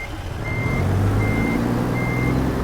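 A truck in American Truck Simulator reverses with its backup alarm beeping at a regular rhythm over a low, rumbling diesel idle. The sound is close and steady, with no talking.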